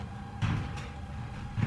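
A door opening in the sci-fi horror game SOMA, heard as a couple of short creaking and clunking sounds over a low ambient hum.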